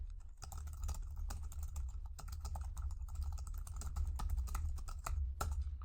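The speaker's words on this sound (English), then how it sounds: "Now, another thing I can do is I can start typing in letters up here to get different results." Letters typed on a computer keyboard in quick, irregular bursts of crisp clicks, close and fairly clear over a low steady hum, with no voices.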